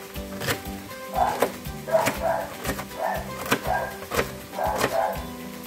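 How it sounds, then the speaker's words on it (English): A Jack Russell Beagle mix rescue dog barks repeatedly in the background, a steady series of medium-distance barks at roughly half-second intervals, with no one talking over them. "So you can hear my dog in the background."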